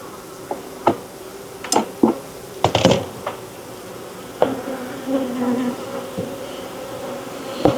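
Honeybees hum in a steady low buzz close by at an open hive, broken by scattered knocks and clicks of hive parts being handled.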